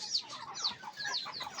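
Young chickens of a kept breed, two roosters and four hens, cluck and chirp in short repeated calls, fairly faint and close, with no talking.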